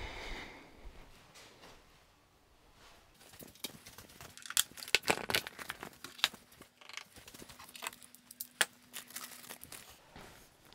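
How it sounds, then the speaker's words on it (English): Plastic zip bags crinkle and rustle up close in a workshop during a BMW Motorrad 850 GS motorcycle build. After a quiet start, the crackles come in irregular bursts, with faint hum beneath and no speech. "I have a lot of these plastic bags, zip bag, you know."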